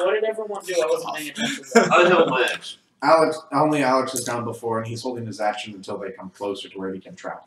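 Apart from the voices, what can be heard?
None of the usual background noises is heard.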